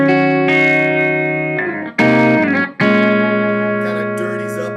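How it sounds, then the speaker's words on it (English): A Telecaster electric guitar played through a humbucker pickup into a clean Lang amp tone, with sustained chords and short strummed changes ringing out bright and close. "So here's a little bit of a humbucker on a clean sound."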